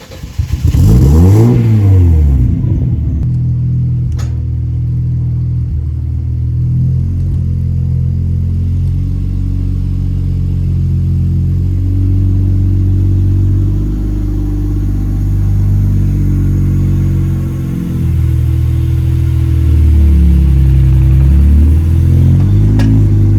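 A Mercedes C180 with a turbocharged M104 engine starts off and accelerates on a relaxed first test drive, its engine revving up through the gears, loud and close, then cruising with further surges of throttle.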